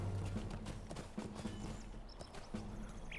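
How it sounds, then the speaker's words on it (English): Horse hooves clip-clop steadily in Lord of the Rings Online, a close rhythmic trot over a low in-game ambient hum, with no talking. "Oops, I think I need to get off my horse."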